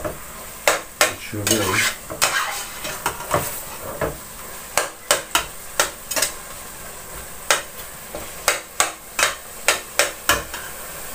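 Meat for a bolognese sauce roasting in a pan, with loud sizzling broken up by repeated clattering scrapes and knocks of a utensil against the pan; a voice speaks briefly.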